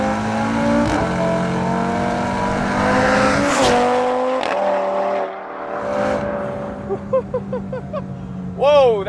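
A 600 hp Audi RS3 with a turbocharged five-cylinder accelerates hard, its engine note climbing through the revs with gear-change dips, ending with faint tire squeal and chirps, heard loud from inside the car.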